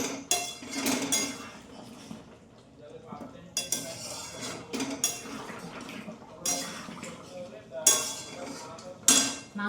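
Meat being stir-fried in a pot in a home kitchen, with repeated scraping and clinking of a utensil against the metal and a light sizzle underneath, coming in irregular bursts close by.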